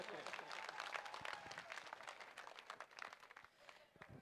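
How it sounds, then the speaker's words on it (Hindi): A large crowd claps steadily and loudly at an outdoor political rally at Sardarshahar headquarters, dense continuous applause with a few voices mixed in, tapering slightly near the end. "जोरदार तालियों से स्वागत करें।"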